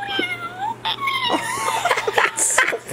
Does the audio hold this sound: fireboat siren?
no